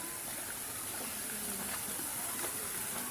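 Falling water pours in a steady, continuous rush with a fine broadband hiss, moderately close and unbroken for the whole few seconds, with no talk over it.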